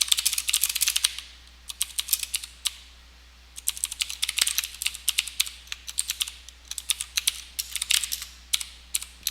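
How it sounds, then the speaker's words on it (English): Bursts of fast typing on a computer keyboard at a desk during coding work, close and crisp, with several short pauses between runs of keystrokes and no talking. "Too much typing."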